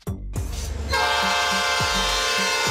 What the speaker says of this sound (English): Freight train.